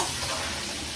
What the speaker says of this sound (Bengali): আর এখন চলছে ঘ্যাটের আলু ভাজা